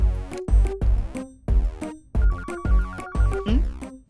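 A mobile phone rings with a loud melodic ringtone, a tune of bright repeating notes that plays on without pause.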